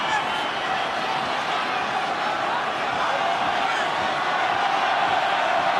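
Stadium crowd of Irish and Welsh fans at a rugby union quarterfinal in Wellington, New Zealand, roaring in a dense, sustained wash of cheering that swells slightly toward the end.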